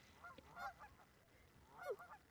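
Geese honk at a campground lake near the east entrance of Zion National Park, with a few short nasal calls coming in two bursts, moderately close and otherwise alone.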